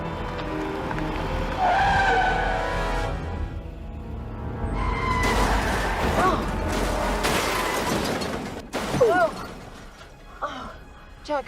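Race car engines fire up and rev with loud tire skids and squeals, mixed with crashing, shattering impacts and urgent overlapping voices, the noise surging and dropping over several seconds.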